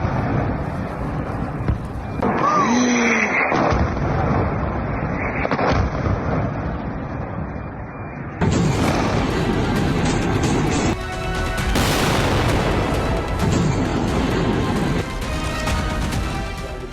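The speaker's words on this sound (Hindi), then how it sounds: "इस धमाके को भी जरा महसूस कीजिए" Explosions from an air strike on Iran rumble as heavy, continuous blasts and roaring noise for about seventeen seconds, loud throughout, with a few short whistling tones early on and sharper bursts in the second half.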